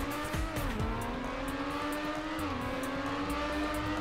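A race car in the Trackmania Nations Forever video game drives with a steady, loud, buzzing engine drone, its pitch dipping and rising as it shifts and accelerates, with brief whooshes and tire sounds, no talking.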